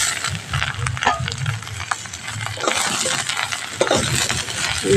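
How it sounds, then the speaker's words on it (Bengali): Cut eggplant hits hot spiced oil in a pan and sizzles steadily, with stirring scrapes and light metallic clinks close by, no talking. "এখন আমি এখানে বেগুন দিয়ে দেবো।"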